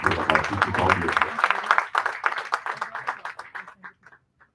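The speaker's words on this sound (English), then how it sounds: "So, please give a huge round of applause to Sri Subrata Bharati." An audience applauds at a hospital's tenth anniversary celebration, a burst of clapping under a speaker's voice at first, then thinning into scattered claps that fade out.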